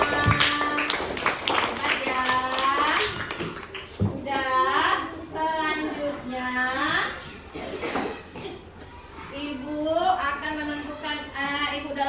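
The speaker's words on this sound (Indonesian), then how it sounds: "Dan tepuk tangan untuk kita semua." In a primary school classroom, children clap in short rhythmic bursts amid lively chanting and talking voices, the claps quick and close, woven through the group's speech.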